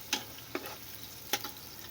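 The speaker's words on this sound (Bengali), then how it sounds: "পেঁয়াজগুলোকে একটু হালকা নেড়ে চেড়ে ব্রাউন কালার করে নেব।" Onions stir-frying toward brown for beef biryani, a soft, fairly quiet sizzle broken by three sharp spatula clicks against the pan.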